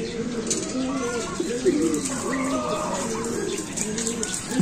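Racing pigeons coo in soft, repeated rolling calls at close range, with faint background noise and some overlapping voices.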